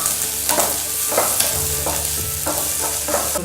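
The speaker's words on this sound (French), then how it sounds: "Ensuite, on va rajouter les oignons. On va mettre un peu de sel." Onions frying with a pinch of salt in a pan for a lemon rice and egg curry meal give a steady, close sizzle, with periodic scraping strokes of a spoon stirring them.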